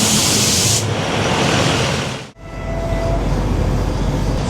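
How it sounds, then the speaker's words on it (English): A train pulls into a station in Portugal with a loud, broad rushing roar that cuts off sharply, followed by a lower steady rumble and a faint brief tone, heard close with no voices. "we just got to hope that a train arrives in the next 5 minutes"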